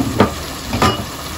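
Potatoes hit a hot pan while a thin khichuri of mung and masoor dal cooks, giving two short, close sizzling bursts with a soft frying hiss between them.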